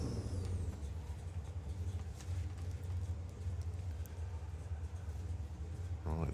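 Steady low exhaust burble from a modified VW Beetle drag car idling at a drag strip, a continuous deep rumble close by with no talk over it.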